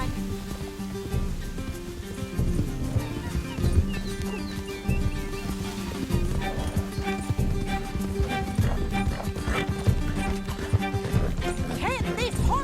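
Horse hooves galloping in the Red Dead Redemption 2 video game near a shoreline, rapid rhythmic thuds under a continuous bed of game sound and music, with a voice speaking over the action.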